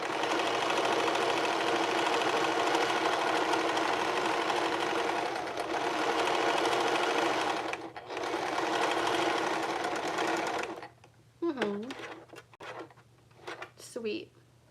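A sewing machine stitches steadily for about eleven seconds with a dense, rapid mechanical whir, then stops abruptly; a few short bursts of speech follow.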